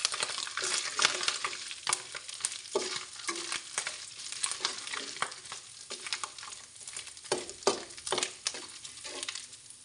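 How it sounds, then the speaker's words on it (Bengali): Panch phoron spices being stirred and fried in oil for a chalta (elephant apple) pickle, a soft crackling sizzle with repeated scraping stirs, fairly quiet and close. "এখন দিয়ে দিচ্ছি 1 টেবিল চামচ পাঁচফোড়ন, দিয়ে আমি আরেকটু নেড়ে ছেড়ে নেব।"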